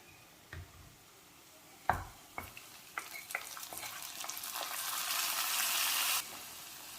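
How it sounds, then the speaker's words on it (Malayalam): A hot tempering of mustard seeds, onion and dried red chillies is added to a simple home-style curry with dried prawns. Scattered clinks and pops come first, then a loud hissing sizzle swells for about two seconds and cuts off abruptly. "കടുക് വറുത്തത് കറിയിലേക്ക് ചേർക്കാം"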